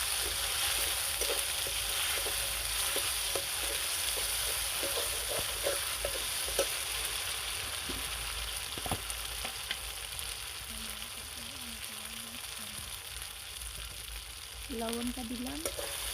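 Cumin seeds and chilli frying in hot oil in a pan, a steady close sizzle with soft scraping stirs repeating throughout, no voices.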